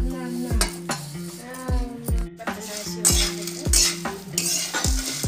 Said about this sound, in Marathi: मसाल्याचा छान असा वास येईपर्यंत मसाले आपल्याला परतून घ्यायचे आहे.